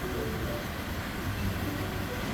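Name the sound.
rushing river, Sierra Nevada trail near Muir Pass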